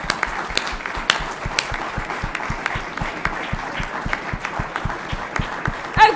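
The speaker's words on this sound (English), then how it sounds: "So, a huge round of applause for the..." A conference audience at a humanitarian energy event applauds panel experts, a moderate spread of clapping with distinct individual claps ringing out over a soft crowd wash, sustained throughout.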